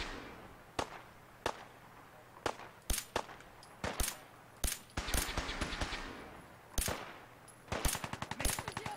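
Gunfire in Fallout 4, with loud sharp single shots at first, then denser bursts and rapid automatic volleys cracking close by in quick succession, and no voices over them.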